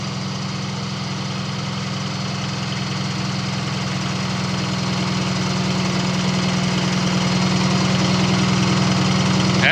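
Truck engine idling steadily with a low, even rumble and constant mechanical hum, close and continuous, gradually growing a little louder.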